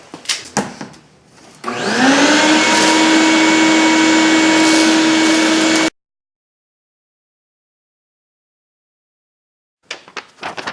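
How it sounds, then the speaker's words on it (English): A vacuum cleaner whirs up to a loud, steady high whine for several seconds, then cuts off abruptly, followed by silence and faint clatter. "let me get the vac. We'll vacuum this out of there."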